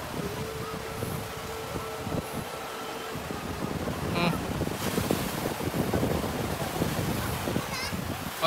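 Steady roar of ocean waves at a surfing beach in the Davao region, with heavy wind buffeting the microphone and a louder surge of surf partway through, under occasional voices.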